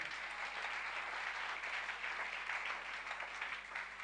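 A church congregation applauds loudly and steadily at a Sunday service, dense clapping filling the whole stretch without a break and no talk over it.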